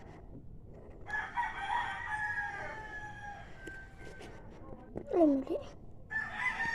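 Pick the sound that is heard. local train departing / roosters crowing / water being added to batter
roosters crowing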